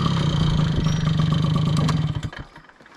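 A moped engine runs loud and close with a steady buzzing drone, then sputters and fades out as the rider arrives and parks.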